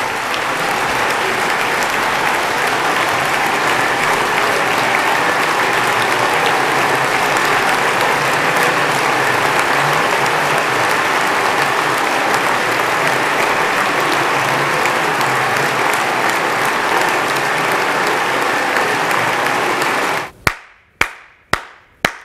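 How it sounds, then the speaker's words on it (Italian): An assembly applauds the President of the Republic after words on fighting the mafia and corruption: dense, loud, sustained clapping for about twenty seconds, then breaking off into a few last scattered claps. "tutti ad applaudire"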